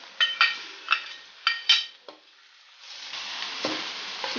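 Ground pork sautés in a pan with garlic and onion: a spatula scrapes and clinks against the pan in several quick strokes, then a steady, close sizzle takes over.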